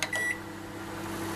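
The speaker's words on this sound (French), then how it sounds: "ça on va le remettre au micro-ondes" A microwave oven heating a dessert gives a short electronic beep, followed by the steady low hum of the oven running, close and clear with no talking.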